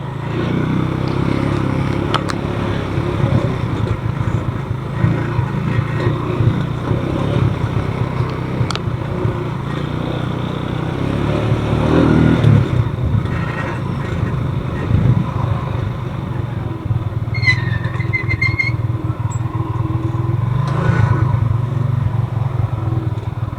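A motorcycle engine drones steadily up close, its rumble rising and straining at times, with occasional rattles and clatter.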